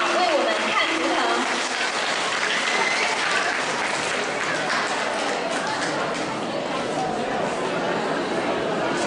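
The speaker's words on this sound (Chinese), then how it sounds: "让我们再次用掌声感谢卢军宏台长为我们看图腾" Sustained applause from an audience at a Q&A session in Frankfurt, a steady, loud, dense clapping that carries evenly throughout with faint crowd murmur beneath.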